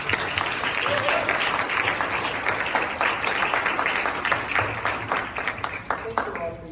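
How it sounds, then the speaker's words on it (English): Audience applause for an artist panel, loud steady clapping from a crowd in a room, continuous throughout and tapering slightly near the end, with faint voices mixed in. "Let's give them a round of applause."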